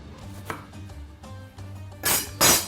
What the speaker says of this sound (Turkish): Patlıcanın kalın tarafıyla biraz da kalın bakın bu şekilde kesebilirsiniz.